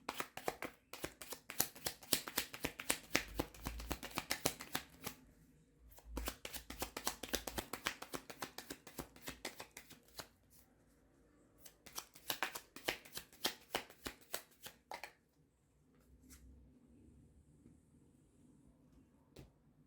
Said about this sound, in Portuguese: Eu já vou tirando as cartas para ficar mais fácil